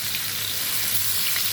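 Bangladeshi fish fries in a hot pan with a steady, dense sizzle that stays even throughout and has no talking over it.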